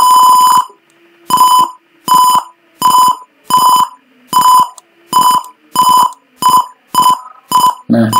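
Simulated Arduino parking sensor buzzer beeping in about a dozen loud, evenly spaced tonal bursts, each under a second, alone with no talk.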